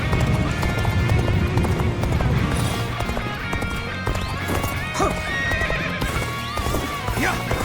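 Horse galloping in Dynasty Warriors Origins, rapid continuous hoofbeats with loud neighs and whinnies over busy battle noise.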